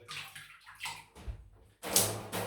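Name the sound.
wetting a shaving brush in warm water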